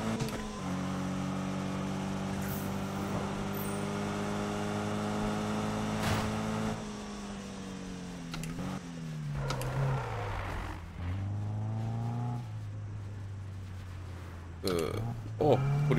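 A car engine in Need for Speed 2016 holds a droning tone, then revs through rising and falling pitch sweeps during a police chase, with someone talking over the engine throughout.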